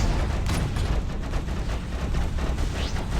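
Autocannons and lasers fire in a modded session of the space combat game Freelancer, a dense, loud barrage of rapid bursts and booms running without a break.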